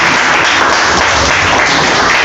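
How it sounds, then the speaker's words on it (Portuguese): A church congregation claps continuously during a morning prayer service, forming a loud, dense, steady wash of applause with no talk over it. "Dê uma linda salva de palmas em nome de Jesus."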